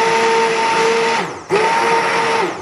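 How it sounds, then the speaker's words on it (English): A blender whirring loudly up close as it purees homemade soup, a steady motor drone with a brief dip and surge midway before running on evenly, with no talking. "it now says to get the blender and blend"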